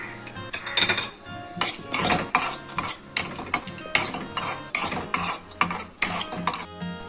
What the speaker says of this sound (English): First we are going to roast the cashew nuts.